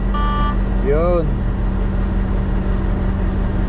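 A truck's low air pressure alarm gives a steady electronic beep over a loud idling diesel engine and air system hum, while a voice speaks briefly.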